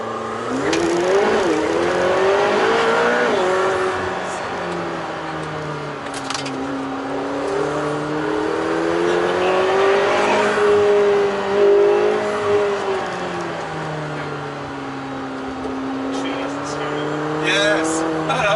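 A McLaren supercar accelerates hard, its engine note climbing and falling in long sweeping pulls as gears change, loud and close with a constant roar and some tire noise beneath.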